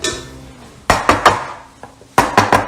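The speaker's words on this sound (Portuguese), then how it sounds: "A gente tira, dá uma leve batidinha no fundo." A metal cake pan filled with Oreo cake batter is tapped lightly on its bottom, giving sharp clanking knocks, three in quick succession, a faint one, then three more, close and alone.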